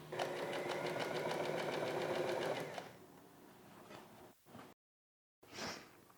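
A sewing machine stitches shut a small hole in a fabric laundry bag, running in a rapid, even whir for a few seconds before stopping, followed by quiet handling noises and a short gap.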